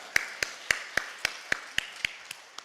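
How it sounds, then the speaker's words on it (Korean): Sharp, evenly spaced claps or taps, about ten over under three seconds, close and moderately loud with a steady rhythm, as a church congregation in a Korean Full Gospel service welcomes the pastor with applause; no talk over it. "목사님 나오실 때 우리 할렐루야로 하나님 앞에 영광의 박수 올려드립니다."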